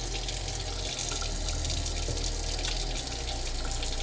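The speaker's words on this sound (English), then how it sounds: "I'm going to go ahead and wash everything out." Running water pours steadily from a tap over hair bundles being washed in a sink, a loud, continuous close rush with no talking.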